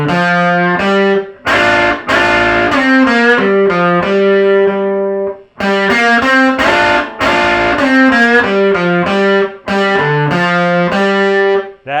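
Electric guitar run through distortion and effects plays licks, loud bright phrases of bent notes and quick runs separated by short gaps.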